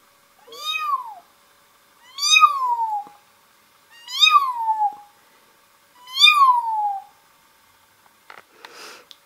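A human voice imitates a lost baby kitten, giving four separate rising-falling mewing cries at an even pace, each about a second long and close to the microphone, then a brief faint noise at the end.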